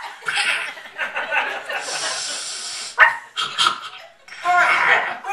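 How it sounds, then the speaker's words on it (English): Comedy sound effect of small dogs barking and scrapping in a fight, a string of yaps and bursts with laughter-like chuckling mixed in, loud and close in uneven clusters. "The little cats and the little dogs are getting into a big fight."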